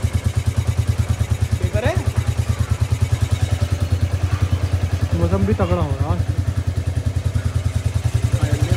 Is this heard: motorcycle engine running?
yes